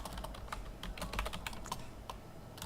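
Code being typed on a computer keyboard during Ruby scripting, a steady run of light, close key clicks at an even pace with no one speaking.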